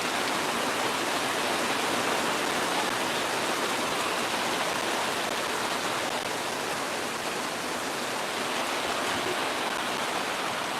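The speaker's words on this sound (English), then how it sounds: "I think the rain is coming down now." Steady rain pouring down outdoors, a dense, continuous hiss that holds at an even loudness throughout with no voices.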